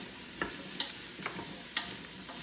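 Asparagus stirred in hot butter inside an Instant Pot on its sauté function, with a soft steady sizzle and a few sharp scraping clicks as the spears are tossed, fairly quiet and with no voices.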